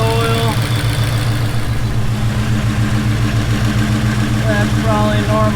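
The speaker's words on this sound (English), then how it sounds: "It's actually idling" Coyote-swapped Ford Foxbody engine idling steadily and loudly up close, a continuous low rumble with a faint voice partly under it.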